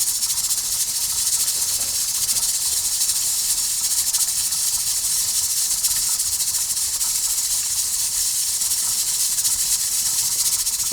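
A ham omelet sizzles steadily in a frying pan, a dense, even hiss holding at the same close level for the whole stretch with no talking over it.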